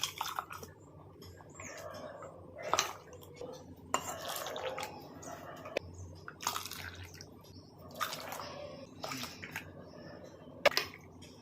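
Milk pudding (paal kadambu) is poured from a vessel into ungreased tumblers and bowls, with soft liquid splashes, scattered clinks of containers and faint background noise, steady and close.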